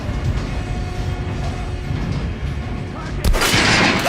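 Gunshots in the video game Metro Last Light Redux, a dull rumbling battle bed with a loud, sudden blast near the end that stays forceful until the clip cuts off.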